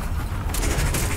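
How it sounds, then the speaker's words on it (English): An explosion in the video game Strange Brigade bursts in at about half a second: a loud, dense wash of crackling blasts and rumble that fills the rest of the short clip, with no talking over it. "Explosion."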